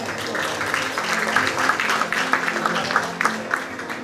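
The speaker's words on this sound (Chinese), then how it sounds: "我们是不是再次热烈的掌声恭喜余医师？" Audience members applaud at the first Ten Outstanding Citizens award ceremony in Kaohsiung, with steady, moderately loud clapping from a hall crowd running throughout.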